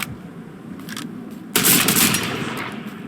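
Pump shotgun fired in Fortnite: a single loud, close blast lands about halfway through, cutting in sharply over quieter game ambience and decaying over the following second.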